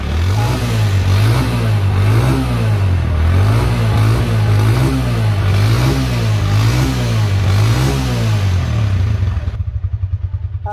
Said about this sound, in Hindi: साइड पे एग्जॉस्ट भी उसी तरीके से लगाया गया है साउंड टेस्ट करके आपको चेक